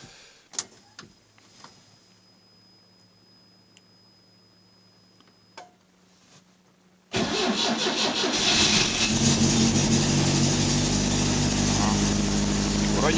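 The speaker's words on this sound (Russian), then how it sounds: "Интересно, там заведется, нет, наша машина. Главное, чтобы завелась." A car engine is cranked and starts in cold November weather: a few quiet clicks and faint sounds, then the engine catches abruptly and settles into a loud, steady idle.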